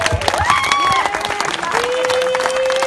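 Loud audience applause and cheering fill the clip, with a few whistles rising above the steady clapping.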